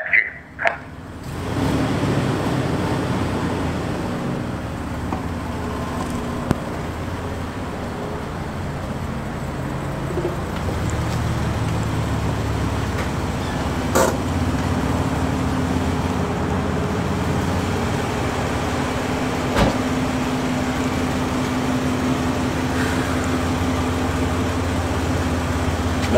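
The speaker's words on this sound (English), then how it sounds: "Driving up with my attack jeep." An attack jeep drives up to a bank in Colorado Springs, giving a steady low engine rumble and road noise over the whole stretch, with a few faint knocks, no speech.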